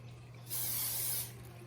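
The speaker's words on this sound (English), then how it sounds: "spray it down with some kind of non-stick spray" A single short burst of canola oil non-stick cooking spray hisses for under a second, close and clear, over a faint background hum.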